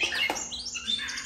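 Oriental magpie-robin kept as a cage bird chirping in a short, clear burst of bright rising and falling whistled notes, close by with no talk.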